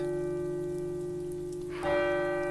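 A church bell chimes the hour in an old-time radio drama. Its deep, resonant ringing tone hangs in the air, and a fresh strike lands partway through.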